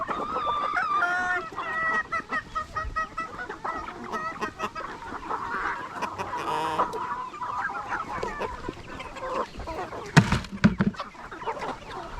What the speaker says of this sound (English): I got some stupid chickens.